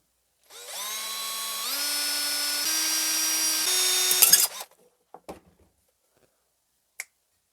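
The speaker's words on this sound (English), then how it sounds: "use a drill of your choice. You can use a step drill if you like to drill 3 very small breathing holes just in the top of the can" A drill spins up, stepping higher in pitch as it bores small holes into the top of a metal can, running for about four seconds before stopping, followed by a few faint clicks and one sharp tap.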